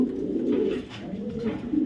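Foreign racer pigeons, a large pair, coo steadily in a low throaty murmur, close by and continuous throughout.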